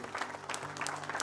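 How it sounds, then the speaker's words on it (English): A church congregation gives a brief hand clap of praise, with many people clapping together in a dense, steady patter of applause. "Let's give the Lord a hand clap of praise."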